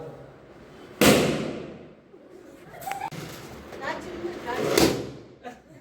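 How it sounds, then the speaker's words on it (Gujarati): Two loud firecracker bangs burst a few seconds apart at a family birthday celebration, sharp and close, with voices chattering in between. "ફટાકડા ફોડે બધા"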